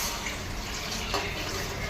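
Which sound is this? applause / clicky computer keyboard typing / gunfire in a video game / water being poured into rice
water being poured into rice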